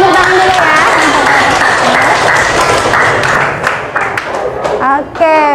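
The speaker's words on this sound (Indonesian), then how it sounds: "Kasih tepuk tangan dulu ya." Students in a high school classroom applaud after a group presentation, loud, close clapping that runs for several seconds, with voices and chatter mixed in and rising as the clapping thins near the end.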